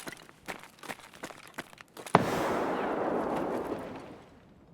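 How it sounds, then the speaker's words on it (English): A grenade from Escape From Tarkov bursts in a sudden loud blast that rolls into a long, dense rumbling decay lasting a couple of seconds, following a run of sharp clicks and scuffles. "Throwing a nade down there."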